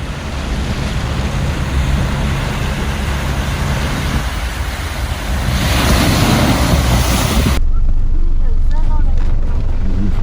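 An old Land Cruiser without four-wheel drive fords the deep Daintree River, giving a steady loud rush of churning water and wind-buffeted noise that swells and grows heavier partway through.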